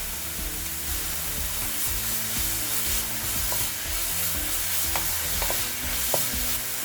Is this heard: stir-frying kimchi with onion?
yes